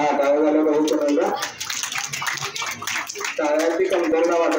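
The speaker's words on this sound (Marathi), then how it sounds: "हा टाळ्या झाल्या पाहिजे." An audience claps for a couple of seconds at a Women's Day celebration in a school hall, the burst of hand claps falling between stretches of a speaker's amplified voice before and after.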